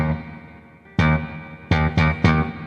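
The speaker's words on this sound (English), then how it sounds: "what I do like about this reverb is when you crank it up" An amp simulator guitar tone in AmpliTube 5 with the reverb cranked up: sustained strummed chords, then several sharp, loud attacks in quick succession, each trailing off into a wide, washy reverb tail.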